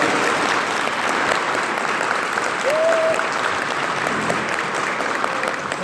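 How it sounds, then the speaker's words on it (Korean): Sustained audience applause at a Korean gubernatorial candidacy press conference, a steady dense clapping that fills the room at even loudness throughout, with no speech over it. "다시 한번 뜨거운 박수 부탁드리겠습니다"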